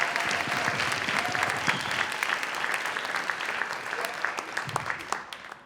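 A pageant audience applauds the contestants at a Winter Carnival Queen's Pageant, dense crowd clapping with a few sharper near claps, gradually tapering toward the end, with faint voices underneath.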